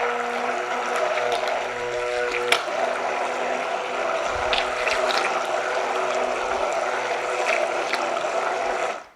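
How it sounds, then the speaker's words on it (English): Vanilla coconut cold process soap batter being mixed, likely with a stick blender, giving a steady mechanical whirring and rattling that runs continuously and close, with one sharp click partway through and no talking. "So I'm going to mix it some more."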